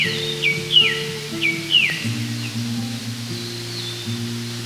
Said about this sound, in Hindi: जंगल में हर तरफ पक्षियों की चहचहाहट सुनाई दे रही थी।